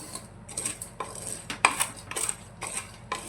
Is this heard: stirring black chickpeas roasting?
yes